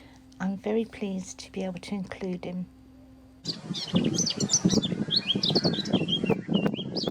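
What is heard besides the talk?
blackcap singing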